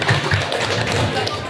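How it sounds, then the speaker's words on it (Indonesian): Audience applause at an agricultural extension technology competition, a short burst of dense clapping from a seated crowd, fairly loud, with some voices underneath. "Tepuk tangan untuk kota, untuk kita semua."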